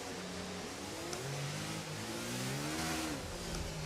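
A racing car engine in a racing video game revs and strains after a spin, its tone rising and falling as the tyres struggle for traction, steady and fairly loud with faint background noise.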